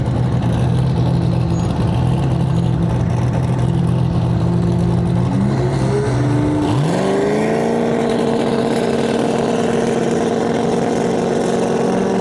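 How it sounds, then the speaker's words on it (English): A Camaro race car rolls up to the drag strip start line with a steady loud engine drone that dips and shifts pitch midway and settles into a higher, smooth idle-revving tone. "this Camaro's pulling up to the line."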